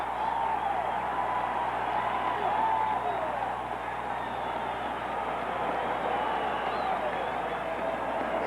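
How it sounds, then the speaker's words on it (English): Cincinnati Bengals fans at a December 1980 NFL game against the Cleveland Browns cheer the defense, a steady, fairly distant stadium roar with applause that holds evenly throughout under a voice. "And the Bengal fans cheer the defense"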